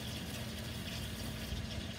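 Water running over coins soaked in white vinegar with dissolved salt, a soft continuous splashing rinse, faint and steady for two seconds.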